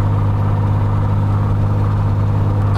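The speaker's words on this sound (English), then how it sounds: "Now at 1700 RPM, I will move this key from both to right position and observe a drop in RPM." A piston aircraft engine idles steadily at about 1700 RPM during a magneto check, the ignition key switched from both to right, giving a continuous loud low drone with no clear pitch change over a few seconds.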